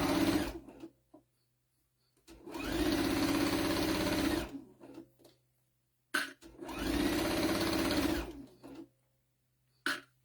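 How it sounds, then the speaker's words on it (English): A sewing machine stitches a half-inch seam across a towel in two long, steady whirring runs of a couple of seconds each, separated by quiet pauses, with faint short bursts at the edges. "we're just sewing the 1/2 inch all the way across"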